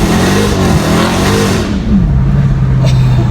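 A 2015 Dodge Charger SRT Hellcat accelerating hard at part throttle on a county road, its engine roaring loudly and climbing in pitch, dipping at a shift, then resuming a sustained strong drone, close-up with no talk.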